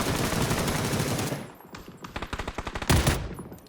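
Rapid automatic gunfire in the video game PUBG, a dense burst followed by a string of distinct shots in quick rhythm, loud and close with no voices.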